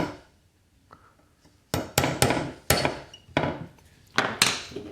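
Sharp metallic-wooden taps of a hammer driving a pin out of a Mauser 98 trigger assembly clogged with dried grease and oil, a soft knock first, then about seven crisp, close strikes in uneven bursts.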